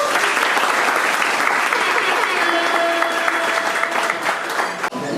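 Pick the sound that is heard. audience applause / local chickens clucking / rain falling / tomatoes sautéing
audience applause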